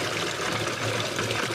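Water from a spring flows strongly through a forest on a mountain, a continuous, full rushing and gurgling that stays steady and close for the whole short stretch, with no voices.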